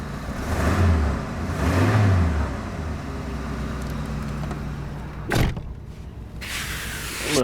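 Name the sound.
1983 Oldsmobile Regency 98 Brougham running, humming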